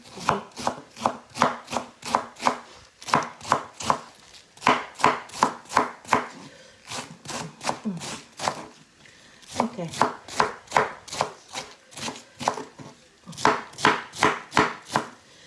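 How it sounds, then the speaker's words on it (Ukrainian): A knife chops quickly through cabbage on a cutting board in fast, even bursts of sharp close knocks, the runs separated by short pauses. "І починаємо швиденько різати."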